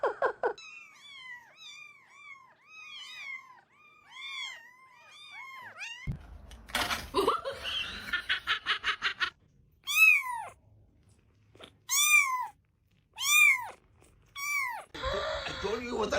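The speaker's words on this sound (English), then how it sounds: "I told you it was a little kitty." A small kitten meows repeatedly in a high, rising-falling series, close and clear, then a burst of louder household noise and handling before more sharp, insistent meows.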